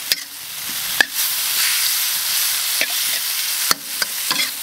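Cured pork and hot chili peppers being stir-fried together in a wok, with a steady loud sizzle and scattered sharp scrapes and clanks of the spatula, close and without talk.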